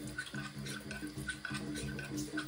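Warm water runs steadily from a tap over a Suehiro whetstone, a soft continuous splashing rinse with small uneven spatters, heard quietly and alone.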